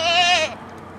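A goat gives one close, loud bleat lasting about half a second, then falls quiet.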